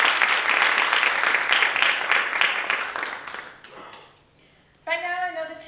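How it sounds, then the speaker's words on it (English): Applause from an audience at a scholarship pageant competition, honoring one of the judges, a dense round of clapping that fades over several seconds before a voice starts speaking. "Please give a round of applause for Judge Number 3,"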